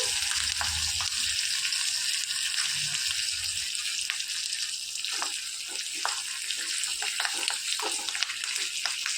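Tempering seeds and curry leaves frying in hot oil for chukkakura pappu, a dense continuous sizzle and crackle with scattered pops and light stirring, close and fairly loud.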